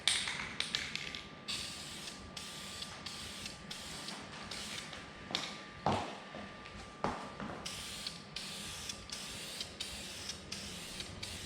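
A can of primer hisses in short repeated spray bursts onto a wheel during a DIY paint job, with a few taps and rattles of the can between passes and a faint steady hum behind.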